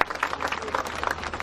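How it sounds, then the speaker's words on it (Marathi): An audience at a bullock cart race event claps to welcome dignitaries on stage. The applause is dense and steady and sounds fairly close for a brief stretch. "सर्व मान्यवरांनी टाळ्या वाजवून स्वागत करा अशी विनंती करतोय"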